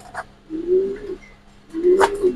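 Toy Lahori pigeons at a pigeon farm give two soft, low, drawn-out coos close by, separated by a short pause, with light background noise.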